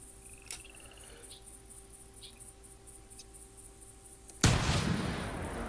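A single sharp rifle shot cracks out near the end while a lynx is hunted from a tower on Whitehart Island in theHunter Classic, breaking a long stretch of quiet outdoor ambience with faint creature calls.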